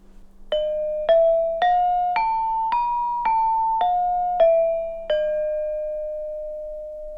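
Metallic gamelan keys struck in a slow sequence of nine notes in the pelog scale, climbing and descending, the final tone left ringing out and fading.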